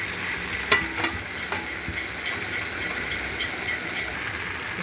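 Mung beans simmer in a covered pot for a curry with mango and eggplant, making a faint, steady bubbling and sizzling hiss broken by a few sharp clinks and taps.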